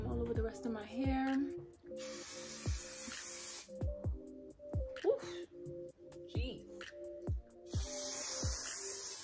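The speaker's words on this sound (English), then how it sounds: "And I'm gonna just spray some all over the rest of my hair." Hairspray from a can misted all over straightened hair in short hissing bursts, quiet and close, with spoken talk running between and over the sprays.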